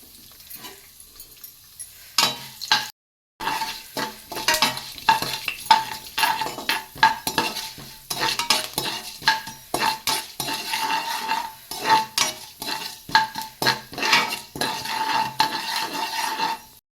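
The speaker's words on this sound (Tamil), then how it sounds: "அது கூட கடலப்பருப்பு நம்ம எடுத்து வச்ச வெந்தயத்தையும் சேர்த்து போட்டுடலாம்" Chana dal and fenugreek seeds frying in a pan over low heat, with steady scraping stirs of a metal spoon and clinks against the pan over a soft sizzle, close and continuous.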